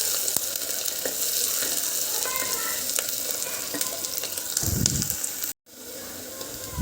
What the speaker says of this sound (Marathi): कांदा छान परतून घ्यायचा, एकदम गोल्डन होईपर्यंत परतून घ्यायचा